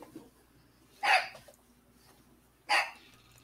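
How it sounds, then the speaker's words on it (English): A little puppy gives two sharp, separate barks about a second and a half apart, fairly close, against a quiet room. "It's my little puppy."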